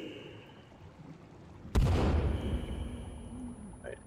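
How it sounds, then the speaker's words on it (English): A thrown bomb explodes in the survival game Sons of the Forest, one sudden loud blast partway through, followed by a rumbling decay over quiet ambient background. "We're gonna throw the bomb over there."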